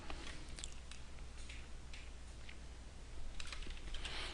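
Rapid, light tapping on a computer keyboard, close and faint, with irregular bursts of clicks over a quiet room hiss.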